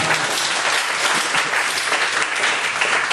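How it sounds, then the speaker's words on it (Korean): Steady, dense clapping from a church congregation at an evening service, loud and sustained throughout with no pauses. "박수하겠습니다"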